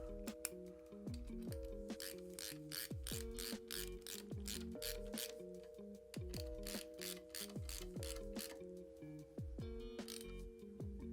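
A socket ratchet turning exhaust bolts on a Harley-Davidson while a 2-into-1 Kerker exhaust is fitted, with rapid steady pawl clicks in repeated strokes, close and alone.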